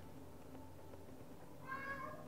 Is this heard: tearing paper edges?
no